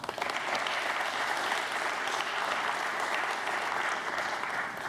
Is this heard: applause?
yes